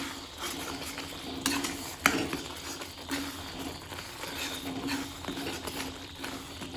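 Chicken mixed with chili powder and salt, utensil scraping and clinking against a bowl in irregular strokes, with one sharper knock partway through.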